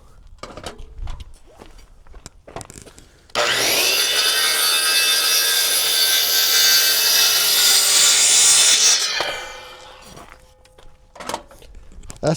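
A saw squares off the end of a wooden board while a roof is prepared for metal. One loud, steady cut lasts about six seconds and dies away, with quiet handling knocks before and after.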